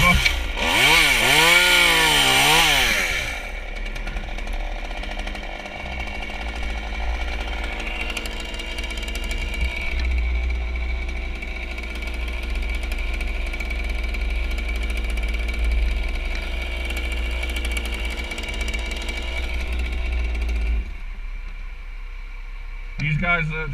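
An Efco MTT3600 chainsaw runs steadily and loudly close by, with a harsh buzzing drone throughout. A brief rising-and-falling rev opens it, and the engine cuts out near the end.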